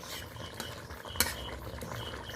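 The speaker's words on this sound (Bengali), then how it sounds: "গরম মশলা আমি কিছুটা পরিমাণ ছড়িয়ে দিলাম, ভালো করে একটু মিশিয়ে নিচ্ছি।" A spoon stirs a sole fish curry in a pan after garam masala is sprinkled in, with soft continuous scraping and light sizzling close by and one sharp metallic clink in the middle.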